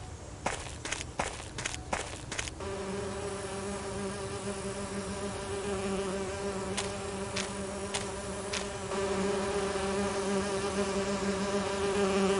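Bees buzzing in an Agatha Christie mystery video game, a steady droning hum that fills the scene after a run of quick footstep-like taps at the start, with a few sharp clicks later on.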